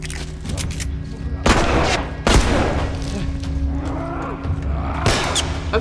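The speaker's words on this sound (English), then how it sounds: "I just know they're still shooting at me." Gunfire in The Last of Us video game: several sharp, loud broadband shots ring out at irregular intervals over a steady low rumble of game ambience, with no voices.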